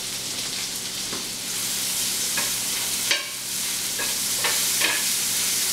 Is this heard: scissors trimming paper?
no